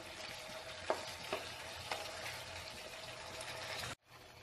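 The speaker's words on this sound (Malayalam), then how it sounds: "നമ്മൾ ഹൈ ഫ്ലെയിമിലാണ് ഇത് കുക്ക് ചെയ്യുന്നത്." Onion and capsicum sizzle in sauces over a high flame, a steady, moderately loud frying hiss with a few clinks of stirring, cut off abruptly near the end.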